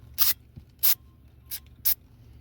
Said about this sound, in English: I'm just going to try to very carefully spray some down inside there